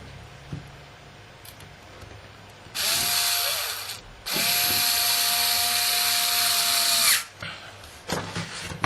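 An electric screwdriver whirs loudly in two sustained bursts, the second longer, as screws are driven into a PlayStation 2 hard drive enclosure, with faint clicks and handling noise before and after.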